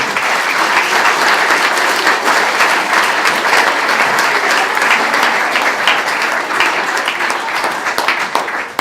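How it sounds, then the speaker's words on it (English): Sustained, loud applause from an audience at an under-9 boys' football awards night, dense clapping that holds steady for the full stretch with no talking over it. "I think all the boys deserve a round of applause"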